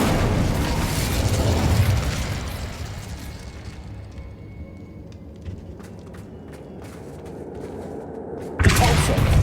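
An Incendio fire spell from the game Hogwarts Legacy erupts in a loud, dense whoosh and burst of flame that swells over the first few seconds, fades into a low rumbling tail with small crackles, then a fresh blast hits near the end.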